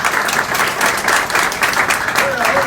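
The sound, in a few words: audience applause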